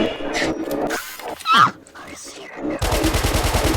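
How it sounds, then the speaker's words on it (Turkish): Rapid automatic gunfire erupts in a FNAF video game as players shoot animatronics. It comes as a loud, evenly pulsing burst after a stretch of excited talking. "Silahla animatronikleri parçalamak çok keyifli oğlum."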